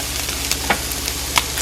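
Beef sears in a hot pan for carne guisada, a steady, dense sizzle with a few faint pops and crackles, close and continuous throughout.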